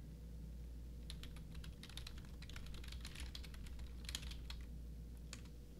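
Someone types on a computer keyboard in short bursts of quick, close clicking over a steady low hum, pausing now and then, with no voices.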